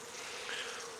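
Honey bees buzz around an open hive being inspected in spring, a close, dense, even hum lasting only a moment.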